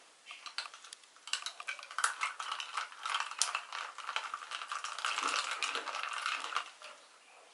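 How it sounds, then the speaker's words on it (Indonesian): A spoon stirring iced milk coffee made with moka pot espresso, a quick run of light clinks and rattles of ice against a glass, close and fairly quiet, with no talking. "setelah selesai aduk sedikit"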